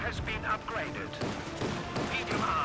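A mortar half-track barrage in Company of Heroes 2 sounds as a steady run of thuds and muffled impacts beneath ongoing battlefield noise, with a voice talking over it throughout.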